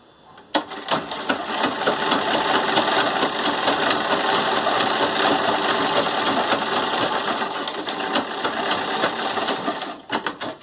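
A sewing machine runs steadily, stitching a straight seam in fabric for a door draft stopper, giving a close, continuous mechanical whir and rattle for about nine seconds before stopping briefly and restarting.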